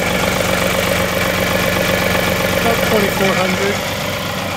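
A John Deere 2038R compact tractor engine idles steadily at close range with its hydraulics in the curl function, a constant mid-pitched rumble running throughout while someone talks over it.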